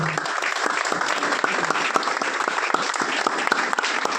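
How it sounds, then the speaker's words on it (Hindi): Audience applause fills a hall, steady dense clapping from many hands throughout, fairly close and continuous with no voices on top. "आप लोगों को तालियां दे सकेंगे।"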